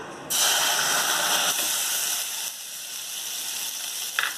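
Butter hits a hot pan for white sauce and sizzles sharply, a loud steady crackling hiss that settles slightly softer and continues throughout.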